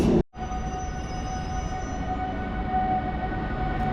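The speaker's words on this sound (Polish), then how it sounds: "Rusza pociąg do Wrocławia, Intercity Konopnicka." An Intercity train named Konopnicka pulls out of Warsaw Central station bound for Wrocław, a steady rumbling roll with a faint sustained tone, continuous after a brief cut at the start.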